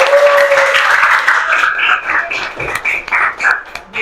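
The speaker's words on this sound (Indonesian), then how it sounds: "Ya, beri tepuk tangan" A small audience claps after a classroom presentation in a guidance lesson, uneven hand claps that start strong and then thin out, with some voices in the room.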